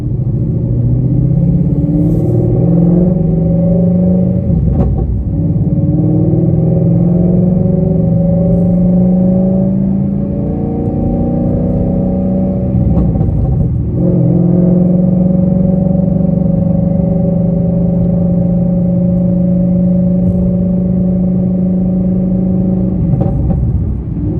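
A 2013 car fitted with Roush Stage 3 headers rumbles through repeated engine revs and upshifts below 3,500 RPM, the pitch climbing and dropping in several cycles, loud and close with no talk.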